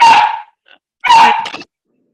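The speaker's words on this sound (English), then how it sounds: "my dog is barking" A dog barks twice at close range, loud and sharp, with a brief pause between the barks.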